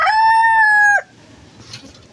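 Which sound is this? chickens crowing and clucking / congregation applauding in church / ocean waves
chickens crowing and clucking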